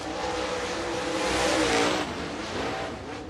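A race car roars past on a lap of Lake Cumberland Speedway, a loud, continuous high-revving engine note that swells as it nears and fades slightly as it moves on.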